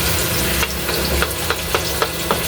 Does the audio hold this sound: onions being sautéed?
yes